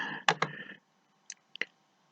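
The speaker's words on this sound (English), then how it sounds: "So 3 times I'm rolling the dice." Dice tumbling onto a surface, rolled for a prize drawing: a dense rattle of clicks for under a second, then several sharp, scattered taps after a pause, close and fairly quiet.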